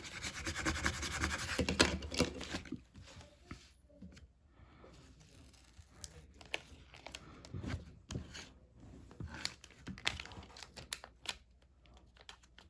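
Torch paste is scraped off a wooden surface in quiet, uneven bursts of dry rasping and scratching, separated by short pauses.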